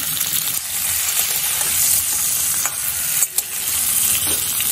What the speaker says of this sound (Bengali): এবার কেটে রাখা পটলগুলো আমি তেলের মধ্যে দিয়ে দিলাম।